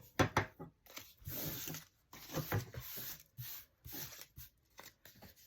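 Quiet, irregular snips and crisp paper rustles as fabric scissors cut through paper in short bursts separated by brief pauses.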